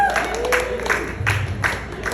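An audience at a showcase in a bar claps in a steady, moderate patter of many hands, with murmuring crowd noise underneath.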